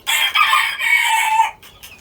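A Black Motlet rooster crows nearby, one long loud call that rises and holds for over a second before fading, with faint background noise after.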